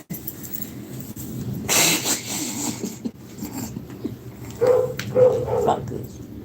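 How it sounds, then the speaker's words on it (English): A dog barks outdoors, heard as a few muffled barks and higher yips at a moderate distance, mixed with indoor rustling and handling noises. "the dog out there barking"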